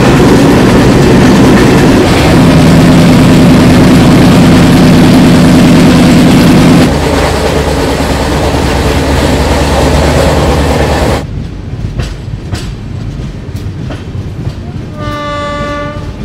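An Indian train crossing Chilika lake in Odisha rumbles loudly and steadily, wheels clacking on the rails, then grows quieter as a few sharp clanks ring out and a horn sounds at the close.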